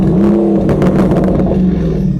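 A Lamborghini Urus hybrid SUV engine revs loudly and steadily, a deep continuous roar filling the short stretch with no voices over it.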